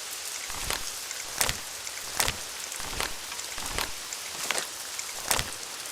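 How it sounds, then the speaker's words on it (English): Steady rain falls in the video game Nancy Drew: Legend of the Crystal Skull, a continuous hiss with regular sharper drip or splash accents every second or so. "I love how Nancy just stands in the rain like it's totally normal."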